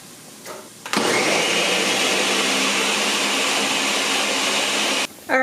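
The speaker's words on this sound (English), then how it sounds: "So I'm gonna put them in a blender and puree them." A blender purees quartered, peeled, steamed tomatoes with a loud, steady whirring roar. It starts abruptly after a short quiet lead-in, runs unbroken for about four seconds, then cuts off sharply.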